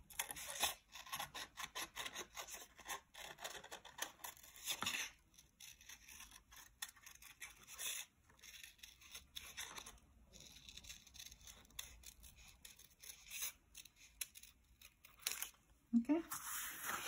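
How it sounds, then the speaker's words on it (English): Scissors cut out a paper circle along a drawn line for a handmade card, giving a continuous run of quiet snipping and rustling paper with a person talking over it. "So now I'm going to cut this out, the circle. So cut on the line."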